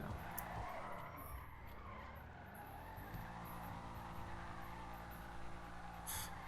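Car drifting in GTA V with skidding tires, a sustained tire squeal over a steady engine drone that runs throughout at moderate loudness, with no talk.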